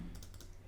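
Computer keyboard keys tapped in a brief, faint burst of quick clicks while typing text in Figma, with no voices.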